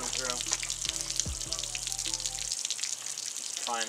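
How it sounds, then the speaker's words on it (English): Water rushing and splashing through a two-stroke outboard engine being de-winterized, a steady hissing flow running throughout, with a low mechanical hum and a voice heard over the first half. "get some water flowing through the engine"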